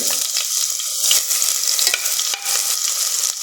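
Crushed garlic hits a hot pan with mustard seeds and sizzles loudly and up close, crackling and spitting with scraping stirs of a spoon throughout.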